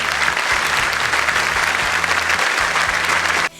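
Loud, continuous applause from guests at a university graduation ceremony honouring the graduates, with steady music underneath, runs for about three and a half seconds and then cuts off sharply.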